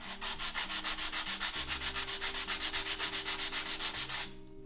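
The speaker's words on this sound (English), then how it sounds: "So now I'm moving to silicon carbide 220 sandpaper" Rhythmic sanding with 220-grit silicon carbide paper, steady back-and-forth strokes rubbing a surface, close and continuous, stopping near the end.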